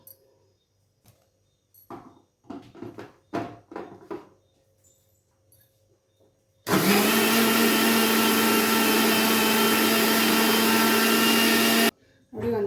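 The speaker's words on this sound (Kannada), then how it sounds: "ಈ ಕಡೆ ಒಂದು ತರ್ಟಿ ಸೆಕೆಂಡ್ಸು ಬ್ಲೆಂಡ್ ಮಾಡಬೇಕು" A countertop blender whips cream for homemade butter, a loud continuous whirring roar lasting about five seconds before cutting off abruptly, preceded by a few clatters and a voice talking.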